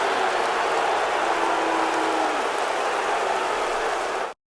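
Steady rain falls during a rainy American football game in Blitz: The League II, a dense, even hiss that holds for several seconds before cutting off abruptly.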